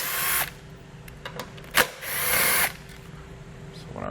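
A power tool fitted with a 7mm socket spins bolts during a Roadmaster base plate install on a 2019 vehicle, with several short whirring bursts close by, separated by pauses and a sharp clack.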